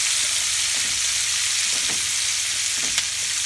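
Onions fry in bacon grease in a hot pan, a steady, loud, close sizzle with a few faint scraping stirs and no voices.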